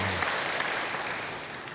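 Steady applause from a church congregation fills the whole moment, a dense wash of many hands clapping at even loudness with no voices over it.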